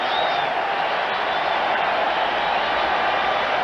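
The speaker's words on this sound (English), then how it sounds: "Listen to this crowd." A packed stadium crowd at a Giants vs Chargers football game roars in a steady, sustained wash of cheering that holds evenly throughout without a break.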